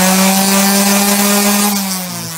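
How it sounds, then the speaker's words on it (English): Old glue and Bondo are sanded off the tip of a Hobie Getaway mast with a power tool, giving a steady, loud, close-up grinding whir with a tonal hum that eases off slightly near the end. "I'm going to finish sanding this off and then we'll continue with the video."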